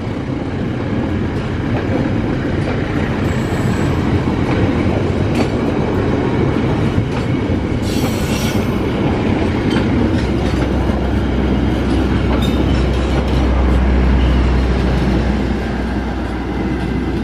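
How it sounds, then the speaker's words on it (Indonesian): The Fajar Utama Solo passenger train rumbles past continuously at close range, with steady rail noise and faint clickety-clack throughout, growing slightly heavier near the end. "ini adalah kereta api Fajar Utama Solo dari stasiun Pasar Senen untuk tujuan akhir stasiun Solo Balapan"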